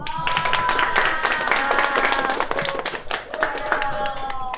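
Outdoor audience clapping for two students at a street broadcast at the Gwanghwamun anti-poverty sit-in site in Seoul. The clapping is steady and close, with voices and other sound mixed in throughout.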